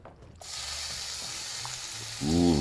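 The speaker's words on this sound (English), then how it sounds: "listen to that sizzle" A sharp, steady sizzle of meat hitting a hot pan, starting abruptly and continuing loudly, with a brief clatter near the end.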